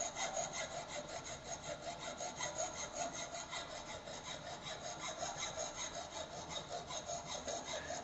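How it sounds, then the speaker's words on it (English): A hand file worked along the edge of a metal workpiece in a fitting shop, giving faint, rhythmic rasping strokes, about two per second and evenly paced, with no talk. "we have to monitor the workpiece, the edge, and then accordingly the filing has been done"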